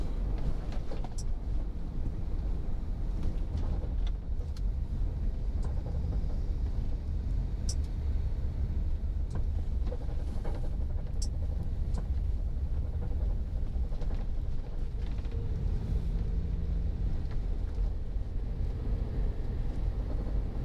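Tyre roar inside the cabin of a Toyota Rush GR Sport driving at 60 on rough asphalt, a steady low rumble with faint wind noise and occasional small knocks, continuous and muffled, with no talking.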